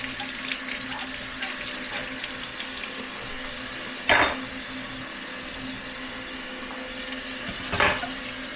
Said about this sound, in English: Just rinsing these off, rinsing them.